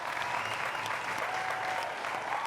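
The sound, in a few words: audience applause for a Chadian artist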